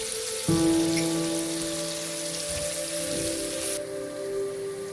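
Chopped onion fries in hot oil in a pan for a Bangladeshi masala coral fish curry, a steady close crackling hiss with a louder burst as it starts, continuing evenly throughout.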